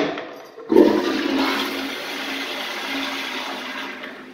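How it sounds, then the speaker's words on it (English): A Kohler toilet in a store men's restroom flushes loudly and up close, a sudden rush of water that keeps swirling steadily for several seconds. "I like the flush."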